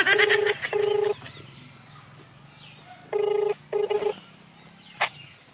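In an Awadhi comedy sketch, a phone call connects with a ringback tone: two pairs of short electronic ring bursts separated by a pause, moderately loud over a faint background.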